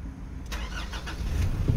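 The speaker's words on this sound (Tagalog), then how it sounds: "So para walang daya, ibalik nating pandarin ang makina." A Nissan Terra engine fires up with its push-start button: a sudden broadband crank about halfway through turns into a steady, close engine rumble that runs to the end.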